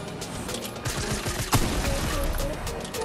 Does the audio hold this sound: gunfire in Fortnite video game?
yes